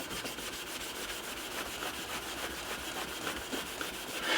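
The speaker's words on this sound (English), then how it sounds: "watching some fella on YouTube polish his brass tubes" Brass chime tubes of a 1939 NuTone time chime being polished, a continuous quick rubbing and scrubbing with regular strokes, close but fairly quiet.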